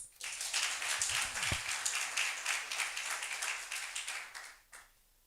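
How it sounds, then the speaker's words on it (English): An audience claps for a doctor at a regional competition round, a dense burst of applause that swells quickly, holds steady for several seconds, then fades out near the end. "Have you heard the clapping, doctor?"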